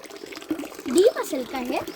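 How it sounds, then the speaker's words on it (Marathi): Water from a spring at Ajobagad fort flows and splashes in the background, steady and moderately close, half buried under someone talking. "समोर त्या झऱ्यातनं पाणी येते"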